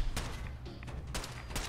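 Gunfire in the video game Fallout 4, several sharp shots at irregular intervals, fairly quiet and somewhat distant, over a steady low rumble.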